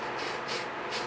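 Zip Kicker CA glue accelerator hisses from a spray can onto a model joint in a steady, close, continuous burst.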